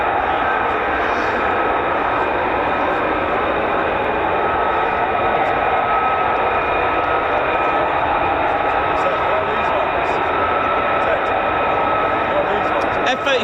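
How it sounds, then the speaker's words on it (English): F-35A fighter jets fly over RAF Lakenheath, a loud, continuous jet roar with a sustained whine holding steady throughout, while people talk underneath. "F-35As."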